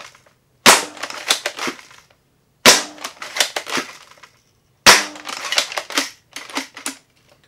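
A Jet Blaster Katana toy blaster shooting foam darts from its clip magazine: three close, loud bursts of sharp snapping shots in quick succession, each separated by a short pause, with no talking.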